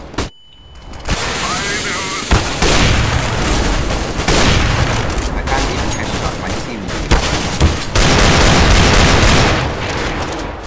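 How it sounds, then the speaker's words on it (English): Flashbang grenade going off in a video game amid dense gunfire, a sharp burst followed by a long stretch of loud rattling shots and booms, with a voice speaking under the din. "Throwing flashbang."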